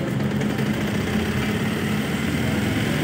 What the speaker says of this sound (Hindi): सिर्फ पाइप लगा देने के बाद RPM देखिए कितना कम होने लगता है